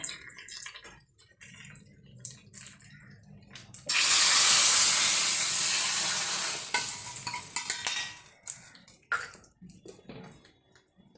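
Rice gruel stirred after a hot tempering is added: a sudden loud sizzling burst that fades over a few seconds, framed by quieter scraping stirs and light kitchen clatter up close.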